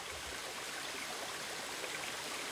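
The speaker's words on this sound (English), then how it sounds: "This place has its own waterfall." Waterfall on Grand Island in northern Michigan, a steady broadband rush of falling water, continuous and fairly even throughout with no voices.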